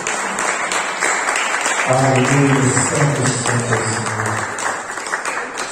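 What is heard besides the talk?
applause for Christ in church service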